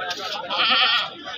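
A goat bleats at a livestock market, a loud, wavering, close cry with a nasal quality that swells and fades over a second.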